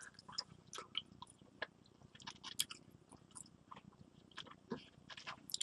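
Someone chews longan fruit close up, producing soft, irregular wet clicks and squishy mouth sounds at a very low level.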